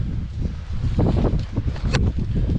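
Headwind buffets a bicycle rider on an upland mountain road, a steady rushing roar of wind across the microphone with gusty swells and low rumble, no voices.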